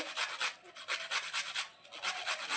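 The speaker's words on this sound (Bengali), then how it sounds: "ঘষে নিচ্ছি মেশিন দিয়ে।" Milk taro (dudh kochu) being shredded on a grater machine, a quick run of short, regular rasping strokes close by, scraping repeatedly with brief gaps between each pass.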